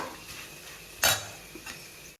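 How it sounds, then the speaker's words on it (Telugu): Potato fry being scooped from a pan into a bowl, with soft scraping and a sharp metallic clank of a spoon against cookware partway through, followed by a lighter tap, over a faint background hiss. "మొత్తం నేను ఆలు ఫ్రై బౌల్లోకి తీసేసుకుంటున్నాను"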